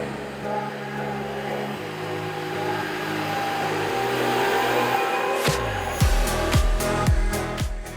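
A MacDon M1 self-propelled windrower drives off, its engine droning steadily and then revving in a series of rising surges, loud and close.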